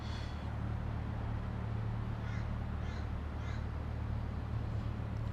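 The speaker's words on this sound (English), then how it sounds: "Those birds are still eyeing off my breakfast." Crows cawing outdoors near a breakfast spot, with three or four short harsh calls at mid distance over a steady background hum.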